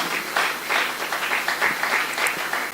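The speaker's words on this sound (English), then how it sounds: "Keep clapping till they get up here, please." An audience at a startup pitch event claps steadily for panel members walking up, a dense, continuous round of applause with no break.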